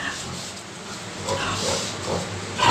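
A pig grunts a few times, close by, over a faint hissing background.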